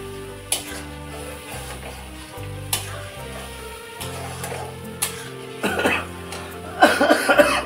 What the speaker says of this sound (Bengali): মশলাটা ভালো করে কষিয়ে নিই 5 মিনিট ধরে